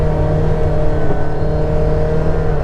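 Road noise inside a vehicle cabin with the window rolled up: a steady, loud low rumble and drone of tires and engine, constant throughout with no voices.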